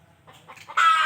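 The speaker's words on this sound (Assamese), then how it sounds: "মই ঘৰতে এখন সৰুকৈ লোকেল মুৰ্গীৰ ফাৰ্ম খুলিছোঁ" Local chickens kept on a small home poultry farm in Assam give a few short, close clucks that build into a louder, busier burst of calls at the end of a brief moment.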